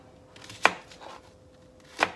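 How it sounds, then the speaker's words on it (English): Two sharp knife chops through an onion on a cutting board, spaced more than a second apart, crisp and close against a quiet kitchen background with no talking. "I'm going to chop my onion"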